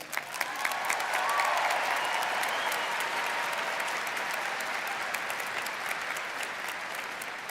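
Dense, sustained applause from a large audience at the NAU Spring 2022 commencement ceremony, greeting the Navajo Nation President and First Lady; loud, steady clapping fills the whole stretch without any talking.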